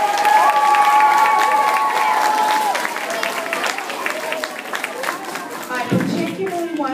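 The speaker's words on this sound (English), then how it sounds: "give yourselves a round of applause" An audience at a public speaking contest claps and cheers, with a loud sustained shout over the start, then steady applause continuing under a speaking voice.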